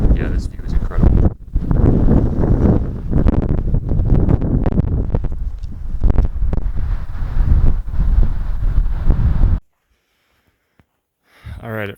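Strong wind gusts of roughly 20 to 25 mph batter the microphone at a scenic San Diego overlook, a loud, continuous rumbling buffet that cuts off abruptly near the end into near silence.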